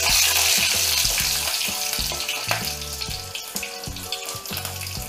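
Small onions dropped into hot oil crackle and hiss loudly at first, then settle into a steady, busy sizzle with rapid popping, close up and without any voices.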